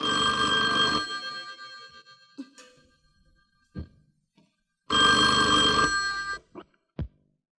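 Two separate bursts of a telephone bell ringing loudly, each about a second or more, with a long pause and a few soft clicks and thumps between them.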